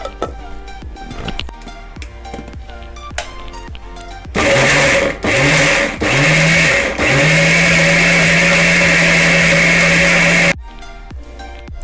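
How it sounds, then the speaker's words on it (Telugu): An electric mixer grinder blends bananas into a no-milk, no-sugar banana milkshake, starting with three short loud pulses and then running in one steady, close whirring roar for several seconds before stopping. "ఇది ఇప్పుడు మిక్సీ వేసుకోవాలి."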